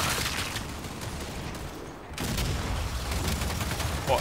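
Rapid bursts of gunfire in the video game Gears 5, dense continuous volleys with a brief lull midway, moderately loud.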